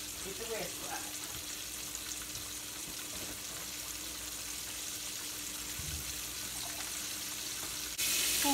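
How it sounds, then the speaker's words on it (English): Cube steaks fry in a pan with a steady, soft sizzle that runs the whole time at moderate loudness, with a few faint kitchen clinks along the way and a slightly louder stretch at the very end. "now our cube steaks have been frying for a few minutes"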